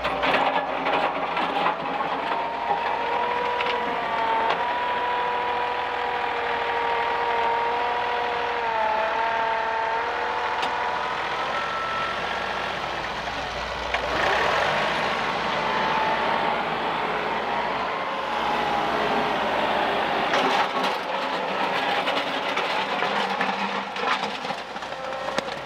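A dump trailer tailgating out 3.5 tons of rock while moving, giving a continuous loud rumbling grind with tonal mechanical whine and scraping rock, steady throughout with brief clattering surges near the end.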